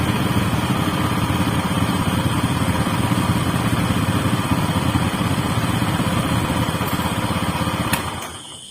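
A new motorcycle, an R18, idles steadily up close with a loud, even mechanical drone that cuts off sharply near the end.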